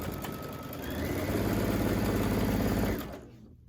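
A sewing machine stitches a quilt, an alphabet panel quilt top, in a steady rapid run that holds for about three seconds up close, then stops and leaves near silence.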